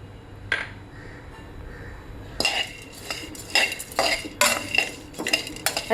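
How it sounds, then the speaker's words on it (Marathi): Pumpkin and sunflower seeds dry-roasting in a pan over low heat with no oil, heard as scattered metallic clinks and scraping taps of utensil against pan, close and fairly loud in short bursts. "आता ह्याला चांगलं मस्त खरपूस भाजून घेऊया"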